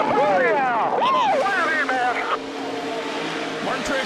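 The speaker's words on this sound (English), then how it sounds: "Martin Truex makes that car wide. Short track win number one for Martin Truex and Joe Gibbs Toyota" NASCAR race cars, including a Joe Gibbs Toyota, scream past at a short-track finish, their engine notes sweeping up and down loudly under excited commentary that fades toward the end.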